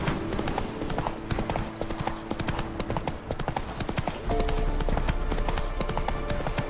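The horse Roach gallops in the video game The Witcher 3 with quick, steady hoofbeats, loud and close, joined by faint game sounds and a brief whinny-like call.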